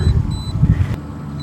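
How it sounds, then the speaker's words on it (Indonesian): Two short, high electronic beeps from a drone signaling GPS lock sound a moment apart over wind buffeting the microphone, followed by another faint tone. "Itu udah bip 2 kali, tandanya udah dapat GPS"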